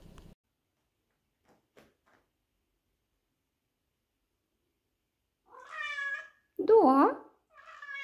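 Two cats meow in turn, giving a few clear, tonal meows close by after a long quiet stretch, with a brief spoken word at the start.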